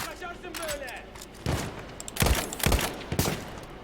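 Gunfire in the Battlefield 1 campaign, several sharp shots cracking out at irregular intervals over a rumbling game soundscape, fairly close and loud.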